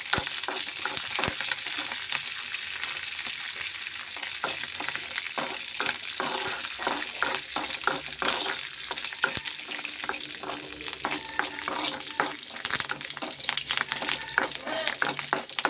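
Tempering sizzles and crackles in a pan for a brinjal and cherry tomato roti chutney, a continuous hiss with spattering pops and occasional stirring, a voice talking over it.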